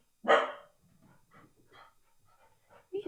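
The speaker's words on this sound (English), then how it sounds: "We've got 2 dogs in the house today, so once one barks, they all bark." Indoors, a dog lets out one sharp, loud bark, followed by quieter yips and whimpering sounds and then another bark at the end.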